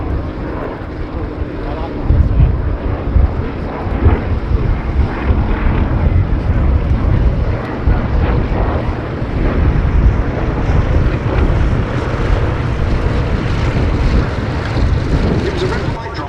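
A vintage aircraft, built to a 1934 Army cooperation aeroplane requirement and flown by Shuttleworth, passes at the Duxford Battle of Britain Airshow 2019. It makes a steady, loud engine drone with wind buffeting, and a voice talks over it throughout.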